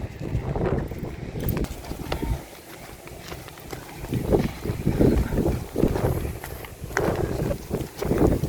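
Strong wind gusting outdoors, buffeting the microphone in a loud, continuous rumble that rises and falls in surges, with a faint voice briefly under it.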